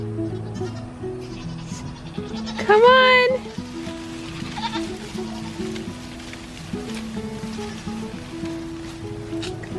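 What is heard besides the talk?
goats bleating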